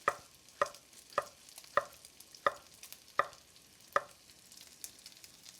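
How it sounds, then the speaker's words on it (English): Bacon sizzling in a pan while being stirred, a quiet frying hiss punctuated by seven evenly spaced sharp scraping knocks from the utensil, with no talk. "Give this bacon some stir. Turn it down. It's starting to release the fat."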